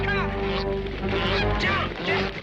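A domestic goose honks loudly and repeatedly at close range, its harsh nasal calls running together with barely a pause.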